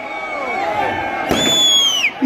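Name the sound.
crowd at Aditya Thackeray rally in Malegaon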